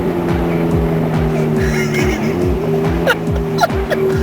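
Ferrari drifting at Interlagos, its engine revving hard and close in a rapid, repeating rise-and-fall pitch pattern, with hints of tire noise near the end.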